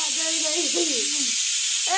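A pressure cooker whistle releases steam in a loud, continuous hiss that stays steady throughout, with faint voice-like tones underneath.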